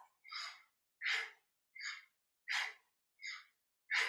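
Deep yoga breathing, with slow inhales and exhales alternating in six distinct, evenly spaced breaths, close and quiet with silence between them and no talking.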